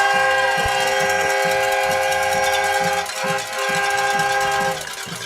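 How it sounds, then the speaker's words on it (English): A loud, sustained horn blares steadily for several seconds over a busy, noisy background, dipping briefly midway before continuing. "And there's that air horn."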